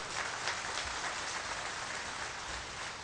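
An audience at a speech event applauds together, a dense, even wash of clapping that holds steady and fairly faint throughout, with no voices heard over it.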